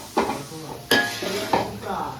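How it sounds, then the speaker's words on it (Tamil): Chicken with spices fries in a pan, with a low sizzle under three sharp scraping stirs and spoon knocks against the metal pan, spaced about every half second. "எல்லாத்தையும் போட்டு ஒரு கிண்டி கிண்டி"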